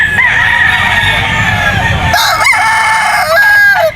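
A stag gamecock at Grotto Pet Market crows loudly and close by, one long crow followed by clucks and other birds calling, with a steady low background of market noise.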